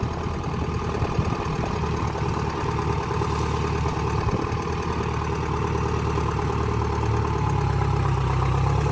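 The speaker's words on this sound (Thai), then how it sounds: "วันนี้พามาดูรถไถคูเบต้าคีบอ้อยนะครับใส่รถ6ล" A Kubota L4508 tractor runs steadily while grabbing and loading sugarcane into a six-wheel truck, its diesel engine droning loud and close with a constant idling rumble and no voices.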